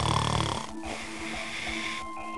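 A person snores with a loud, rattling, harmonic snore at the start, followed by softer rough breaths in a slow rhythm, heard close and alone.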